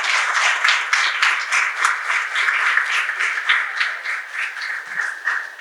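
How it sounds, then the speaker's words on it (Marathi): An audience gives steady applause for child performers in a children's play, with dense clapping held at an even level throughout the short stretch. "आपण सगळेजण या कलाकारांना, यांना मार्गदर्शन करणाऱ्या सगळ्यांना जोरदार टाळ्या वाजवून शुभेच्छा देऊयात."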